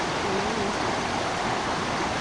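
Steady rushing water of a river flowing continuously fills the clip at an even level with no voices.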